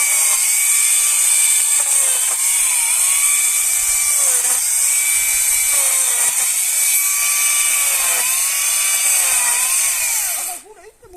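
A battery-powered chainsaw runs steadily at high pitch while limbing, its whine dipping briefly under load every couple of seconds as branches are cut, then cutting off at the end.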